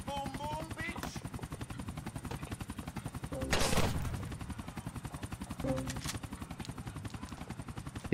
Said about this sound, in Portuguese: Esse merda tá jogando granada